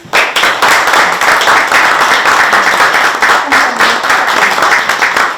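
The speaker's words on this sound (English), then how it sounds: "another big round of applause, please, to our Board of Elections" Loud, dense applause with steady clapping from a crowd at a swearing-in ceremony, sustained throughout with no break.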